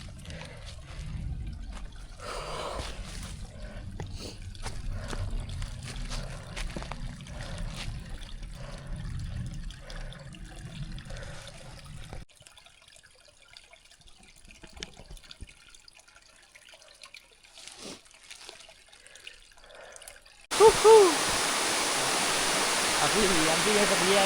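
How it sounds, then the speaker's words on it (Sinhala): A mountain stream on a trail toward Ohiya in Sri Lanka flows with a steady rushing hiss, quieter midway, then swelling loud and close near the end, with people talking over the earlier part. "අන්තිමට වතුර පාරක් හම්බුණා"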